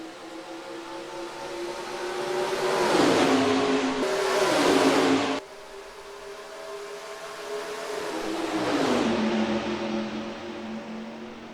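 IROC race cars at Atlanta in NASCAR Racing 2003 accelerating at the green flag: loud engines rise and fall in pitch through gear shifts, a second wave of revving building later, with no talk.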